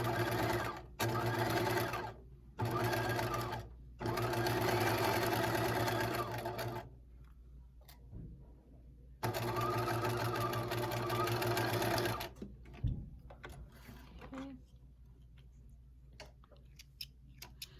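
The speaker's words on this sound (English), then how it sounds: "I just stitched that pocket only to that seam" A sewing machine stitches a fleece pullover pocket onto a seam in several close, steady runs separated by short pauses. Quieter handling noises fill the gaps and follow the last run.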